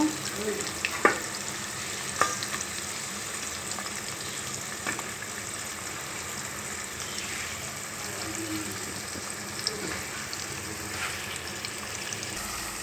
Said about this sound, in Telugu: కూరను కలియబెట్టుకోవాలి కలుపుకోవాలండి